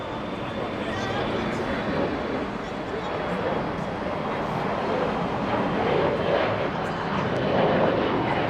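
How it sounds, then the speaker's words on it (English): Airbus A380 arriving at LAX on a repositioning flight from Seattle, a steady, moderately loud jet rumble that swells slightly toward the end, with voices murmuring in the background. "there goes that A380 in from Seattle"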